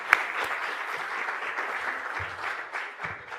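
An audience at a sports forum in Panama gives Leida Galván a sustained round of applause, a steady patter of many hands clapping with a few sharper individual claps and brief murmurs.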